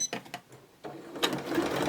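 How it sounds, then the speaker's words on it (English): A sewing machine runs a straight stitch close to the edge of a fabric drawstring gift bag, with short mechanical bursts of stitching that start, pause and pick up again, close and fairly loud. "we took it back to the sewing machine, and we're going to sew as close to this edge as possible"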